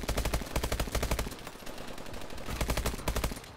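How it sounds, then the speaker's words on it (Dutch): Rapid automatic fire from an IMR rifle in Call of Duty: Advanced Warfare, with tight bursts of shots in a fast, even rhythm, a brief quieter stretch, then another loud burst. "Hij schiet net iets te traag."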